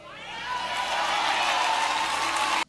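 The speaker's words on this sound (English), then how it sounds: "What are these people clapping for?" A church audience breaks into applause, clapping swelling over half a second into a dense, steady roar of many hands before cutting off abruptly.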